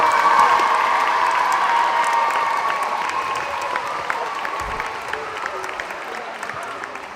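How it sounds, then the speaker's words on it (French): Students applauding the organisers of a school cross-country event: a dense, sustained burst of clapping from a crowd that slowly thins out, with a voice over it. "c'est vous qui allez applaudir toute cette organisation pour les remercier"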